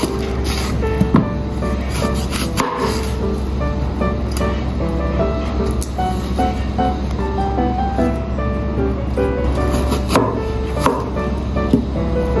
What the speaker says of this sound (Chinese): 洋葱去皮切粒